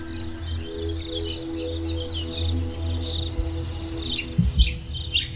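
Crickets chirping in the wild, a steady layered trill with bright rapid chirps overhead and a low hum beneath, continuous throughout with a few sharp knocks toward the end.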